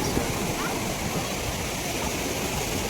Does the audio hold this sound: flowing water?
yes